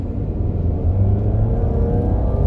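Mercedes C250 W204, a turbocharged saloon, accelerating at full throttle, heard as a loud, steady low engine rumble and drone from inside the car that builds slightly over a few seconds, with no talking.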